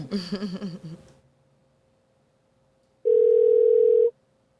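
After a voice fades out, a single steady electronic telephone ring tone sounds for about a second, clear and close, followed by silence.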